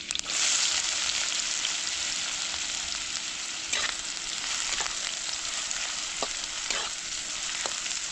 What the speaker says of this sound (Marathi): तेल गरम झालं मोहरी टाकून घेतली जिरं टाकून घेतलं लसूण आणि कांदा